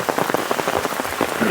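Heavy monsoon rain pours down in Konkan over flooded paddy fields, a loud, dense and unbroken hiss of drops striking the surface close around.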